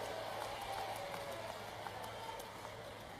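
A crowd at a political rally claps steadily, a dense and fairly faint patter of many hands heard from a distance without a break.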